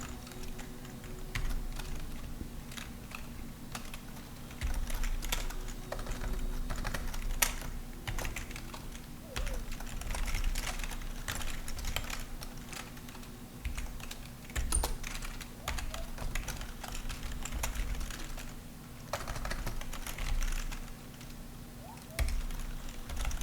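Code is typed on a computer keyboard in a steady, close stream of soft key clicks with short pauses, over a constant low electrical hum and no talking.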